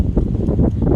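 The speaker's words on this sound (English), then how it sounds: "Ah, it's getting really windy." Strong outdoor wind buffeting the microphone near a big tree, a loud low rumbling roar with gusty surges over a second.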